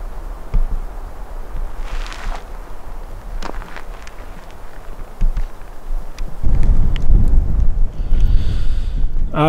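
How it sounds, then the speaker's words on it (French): Wind gusting up beside a reservoir lake in hilly country near Alicante, a broad low rushing roar that swells in midway and stays loud, after a quieter stretch with a few faint scattered knocks. "le vent vient de se lever"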